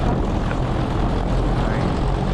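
A race plane's propeller engine roars at full power during the takeoff roll at an air race start, a loud, steady, dense drone filling the whole moment without a break.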